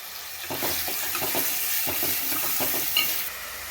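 Chopped tomato and ginger are stirred and mashed in a hot pan for a fish curry, with a soft steady sizzle and repeated scraping strokes of the spoon close by.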